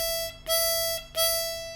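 A harmonica plays two crisp, separately tongued notes, each starting with a sharp attack and then holding steady before a brief gap; close, clear and alone, with no speech.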